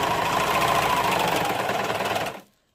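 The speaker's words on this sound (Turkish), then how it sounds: "Önce overlock'ta birleştiriyorum." An overlock serger stitching seams in fabric runs at a steady, loud, dense mechanical hum for about two seconds, then stops abruptly and leaves silence.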